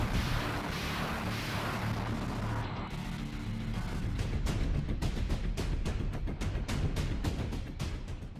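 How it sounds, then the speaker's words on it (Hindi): Thermobaric bomb blasts in war footage from Ukraine, heard as a dense, rumbling roar of distant explosions and a rapid series of sharp bursts, at low level throughout. "कहा जा रहा है ये थर्मोबैरिक बम के धमाके हैं।"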